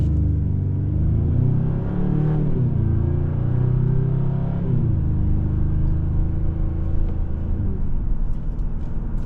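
A 2025 Hyundai Sonata N-Line pulls away and drives on, engine note rising and falling through gear changes as a steady loud rumble of road and motor noise heard from inside the car.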